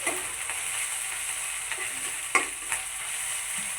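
Prawns fry in a pan over medium heat for a bhuna curry while a spoon stirs them. A steady close sizzle carries a few sharp scraping clicks from the stirring, with no talk.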